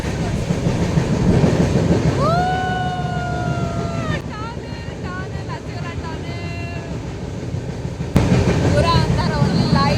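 A passenger train on the Koraput line rumbles loudly and continuously as it runs into a tunnel, with a long two-tone horn and squealing wheels, and a voice talking beneath the clatter.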